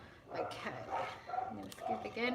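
Dogs barking on high alert inside a house, yips and barks heard faintly in the background beneath close-up talking in a kitchen.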